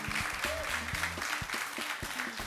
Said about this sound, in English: What a clap for them again.